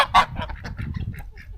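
Loud goose honks burst out at the start, followed by a string of quieter, scattered honks and cackles close by.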